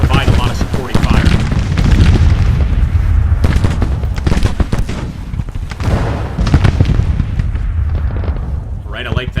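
Artillery and rifle fire in Grand Tactician: The Civil War, a continuous rumble of booms and crackling volleys rolling through the whole stretch, loud and dense, with a voice talking over the battle.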